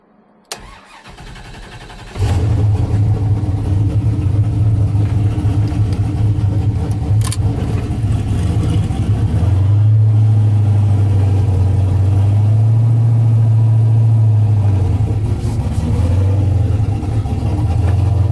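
A fuel-filled shop truck running on ethanol cranks and fires up, then holds a loud, steady, close engine drone that rises and falls as it pulls away and drives, with no talk.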